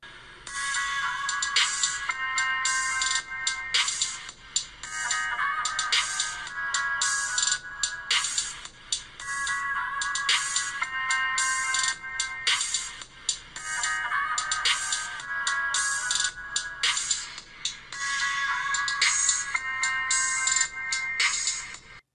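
A bright, tinny ringtone melody plays through the small speaker of an Essential Phone PH-1, looping its chiming phrase over and over at a steady, fairly loud level.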